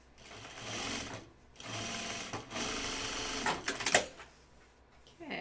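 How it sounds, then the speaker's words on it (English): A sewing machine runs in several bursts over jeans, its rapid needle chatter starting and stopping with short pauses, followed by a few clicks and clacks near the end. "now we're gonna sew"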